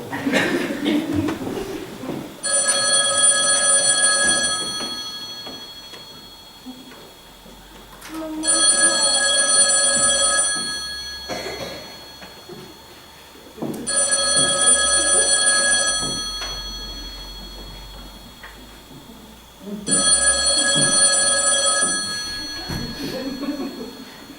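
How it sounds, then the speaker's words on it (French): During a school stage play at a collège, a telephone bell rings in four long bursts with short gaps between them, loud over faint stage and room noise. "Mais ça sonne! Mais décroche!"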